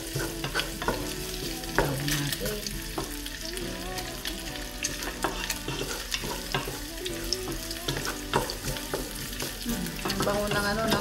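Garlic frying in a pan for Filipino pork adobo with eggs, a steady sizzle running throughout with frequent clinks and scrapes of a spatula stirring against the pan, close and fairly loud, no talking.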